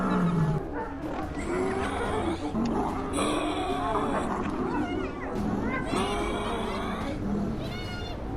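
Lion roars loudly and repeatedly amid a wild-animal confrontation with hyenas, the growling bursts layered over a dense, continuous commotion and backing sound with a narrating voice mixed in.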